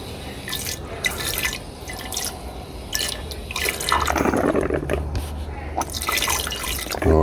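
Water is poured and splashed into a vessel during gold refining washes, with dripping and trickling that comes and goes in bursts, fairly close, and a low hum beneath.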